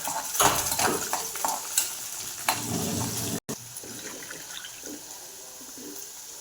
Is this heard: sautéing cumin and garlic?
yes